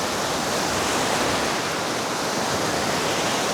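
Big ocean waves break at the shore beside a land-based fishing spot, making a continuous loud, dense wash of surf with no clear gaps.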